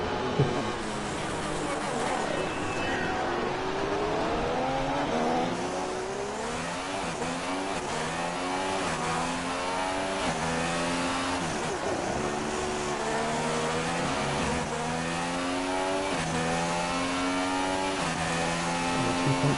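GP2 race cars roar through a China League race, with high engine notes rising and falling steadily as the cars pass and shift, loud and continuous throughout.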